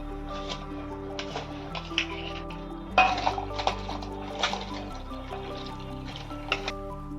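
Rice tipped into boiling water in a cooking pot for mutton biryani, with metallic clinks and scraping of utensils against the pot over a steady bubbling backdrop, close and moderately loud.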